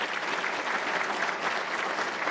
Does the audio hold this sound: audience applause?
yes